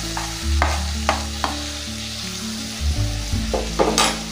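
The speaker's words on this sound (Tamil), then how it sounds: "தக்காளியும் நல்லா வதக்கிக்கோங்க." Tomato sautés with ginger garlic in a pan, a loud continuous sizzle overlaid by repeated scraping stirs of a spatula, with no voices.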